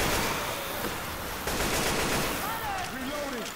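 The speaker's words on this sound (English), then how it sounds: "Keep shooting till we get a 500." Gunfire in Left 4 Dead 2, heard as a loud, dense burst of rapid shots that rattles on continuously across a few seconds, with faint background game sounds mixed in.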